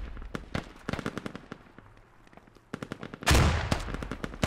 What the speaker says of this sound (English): RPGs and grenade launchers being used. Mainly grenade launchers.